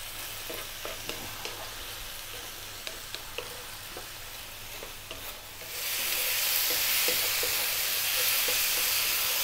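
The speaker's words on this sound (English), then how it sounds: "Wanna fry these mushrooms, the onions and the garlic and cook down those tomatoes as much as we can." Mushrooms, onions, garlic and tomatoes fry in a pan over above-medium heat, a soft crackling sizzle with light stirring clicks that swells into a louder, steady hiss partway through, close and without voices.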